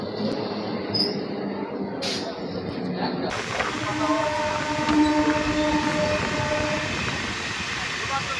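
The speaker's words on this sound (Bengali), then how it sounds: "ফাইনালি গেদে লোকাল প্রবেশ করছে তিন নম্বরে" A Gede local passenger train pulls in to platform three at a railway station, giving a steady rumbling roar with a sustained hissing tone that swells slightly midway, heard close and without talk.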